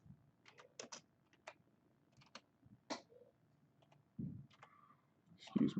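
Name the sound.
typing on a computer keyboard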